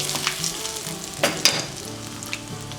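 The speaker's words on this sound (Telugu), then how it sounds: "కొద్దిగా పచ్చిశనగపప్పు, అలాగే కొద్దిగా పట్టు మినపప్పు, ఒక 1/2 టీ స్పూన్ జీలకర్ర వేసి ఫ్రై చేసుకోవాలి." Chana dal, urad dal and cumin seeds frying in hot oil, a steady crackling sizzle with a few sharp pops and faint stirring scrapes, close and moderately loud with no talking.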